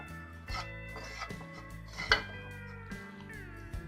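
A spoon knocks and scrapes against a bowl while mac and cheese is mixed with a bread crumb and red chili powder topping, giving a series of close, uneven clinks with one sharper ring in the middle.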